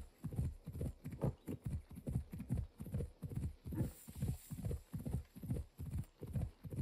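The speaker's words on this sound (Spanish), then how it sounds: "Nos toca un muy largo camino de caballo." Horse galloping across open country in the video game Assassin's Creed Odyssey, a steady rhythmic clip-clop of hooves repeating about twice per second, close and clear with no talk over it.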